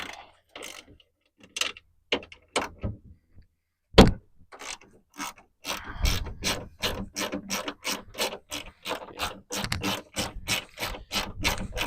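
A ratchet wrench clicks in bursts while bolting ditch light brackets onto a Nissan Frontier, first sparse then a long rapid run of loud, close ratcheting clicks.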